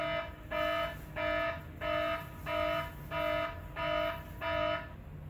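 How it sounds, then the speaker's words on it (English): A repeating electronic alarm tone, seven evenly spaced buzzing pulses with short gaps between them, steady and moderately loud with no voices. "But I'll play the alarm."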